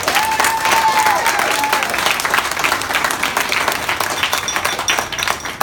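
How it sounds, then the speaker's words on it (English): Loud, dense applause fills a hall during a commemorative speech, a crowd clapping steadily for a man named Al throughout, with a few whistles and cheers mixed in. "Let's give Al a round of applause"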